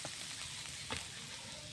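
Fenugreek greens and potatoes frying in a pan give a steady close hiss and crackle, broken by a few faint spatters.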